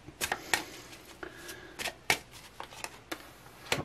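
Tarot cards are shuffled by hand during a reading, with a series of crisp, sharp riffles and snaps arriving in uneven bursts, close and fairly loud with no voice over them.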